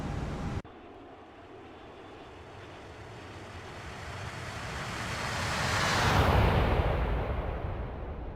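A simulated airliner on a long-haul flight from Copenhagen Kastrup to Miami makes a flyby in a flight simulator game, its broad jet roar swelling steadily to a loud peak near the end before starting to fade, with no talking.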